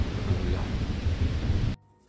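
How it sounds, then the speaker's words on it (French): Heavy rain pours steadily with low thunder rumbling beneath during an early-morning storm in Sidi Bel Abbès, loud and continuous before cutting off abruptly near the end. "je me suis réveillé au son de la pluie et du tonnerre"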